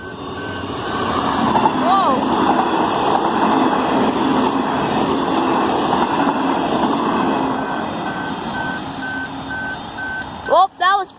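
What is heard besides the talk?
Queensland Rail train passing a level crossing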